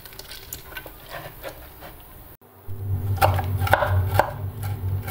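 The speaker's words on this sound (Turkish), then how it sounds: "2-3 yemek kaşığı cevizi bıçağımla ufak ufak kesiyorum, dilimliyorum" Walnuts being chopped into small pieces with a knife, a series of light, sharp taps and cuts on a board, close and moderately loud, with a brief quiet gap before steadier chopping resumes.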